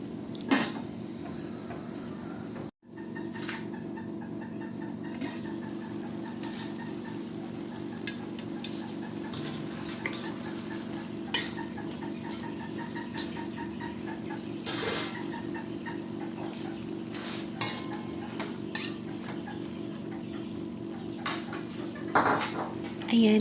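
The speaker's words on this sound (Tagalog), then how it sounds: "haluin natin paminsan-minsan para hindi masunog ang ilalim" Shrimp and vegetables stirred in a pan, with steady scraping and clinking of utensil against cookware over a constant low cooking hiss, continuing throughout with occasional louder knocks.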